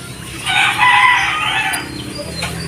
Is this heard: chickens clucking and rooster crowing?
yes